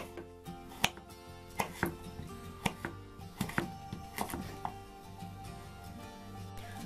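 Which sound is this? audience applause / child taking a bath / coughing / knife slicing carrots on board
knife slicing carrots on board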